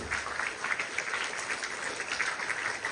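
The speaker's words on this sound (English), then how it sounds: "give a big round of applause for all of you" Sustained applause from a school assembly audience of teachers and students, a steady dense wash of clapping filling the room without pause.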